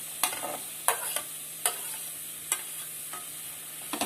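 Mixed vegetables for veg pulao sautéing in a pan, a soft continuous sizzle broken by regular scrapes of a spoon stirring about every second, close and without talk.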